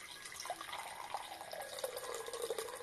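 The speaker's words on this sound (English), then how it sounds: "See how it pours after I've opened it yesterday." A fizzy drink, opened the day before, pours into a glass with a soft, steady hiss of running liquid and faint fizzing, heard up close and fairly quiet.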